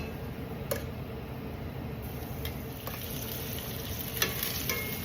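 Chicken pan-frying in cold-pressed extra virgin olive oil over medium-high heat gives a steady, soft sizzle, with a few sharp ticks and light pops over it.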